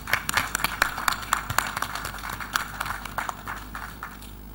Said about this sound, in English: Please a round of applause for Sitawa.